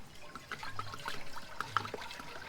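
Water trickles and splashes into a pot outdoors, a steady low gurgling pour lasting a couple of seconds, faint and close.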